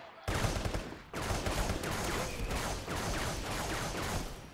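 Sustained rapid gunfire from several weapons in the VR shooter game Contractors, dense, loud bursts running almost continuously with brief gaps, a voice talking faintly underneath.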